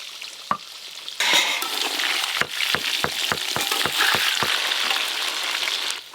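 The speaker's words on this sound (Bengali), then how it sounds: "আলুগুলো একবার ভালো করে নেড়ে নেব।" Potatoes sizzle steadily in a frying pan while a utensil scrapes through them in a quick run of rhythmic stirring strokes, close and clear.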